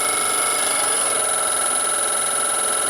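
A three-phase motor on a variable frequency drive turns at reduced speed, giving a steady, loud electrical whine with a high tonal hum and no pauses.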